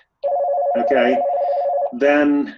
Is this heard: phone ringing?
yes